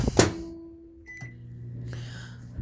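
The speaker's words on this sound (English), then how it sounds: "It's going back in the microwave" A microwave oven reheating frozen cobbler gives a sharp door thump, then a low steady hum that shifts pitch as it starts running, with faint clicks and a soft airy fan noise later on.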